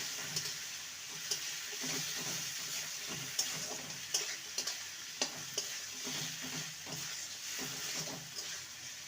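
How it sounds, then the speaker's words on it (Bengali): A spice paste for bitter gourd curry is sautéed in a pan, with a soft continuous sizzle and repeated irregular clicks of a spoon stirring close by over several seconds. "এবার এটাকে ভালো মতন কষিয়ে নেব"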